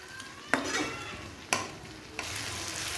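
Ginger, garlic and tomato frying in a pan while being stirred: a soft steady sizzle broken by three sharp scrapes of a utensil against the pan, close up and with no talk.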